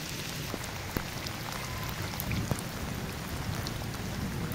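Rain falling outside a home on a cool day, a steady soft patter with scattered sharper drip ticks, moderately faint and continuous with no voices.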